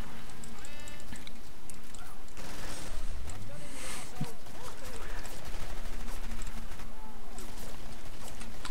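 Rapid, dense gunfire from the Killing Floor video game rattles continuously at a close, steady loudness, with overlapping shots and bursts mixed with other game effects throughout.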